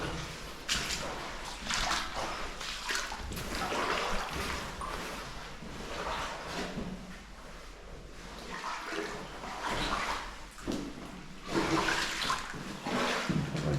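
Water sloshes and splashes in irregular surges, like footsteps wading through shallow water, fairly close and steady throughout.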